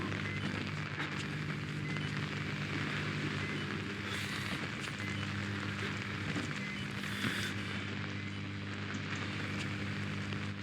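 Steady rain in the video game Outlast, a dense constant hiss with a low hum running underneath, continuous and even throughout.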